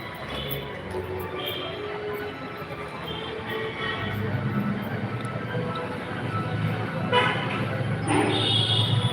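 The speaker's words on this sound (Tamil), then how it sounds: "லாரி வருது." A lorry approaches along a road and sounds its horn, a long bright honk rising over a building rumble of traffic, with a second short blast near the end.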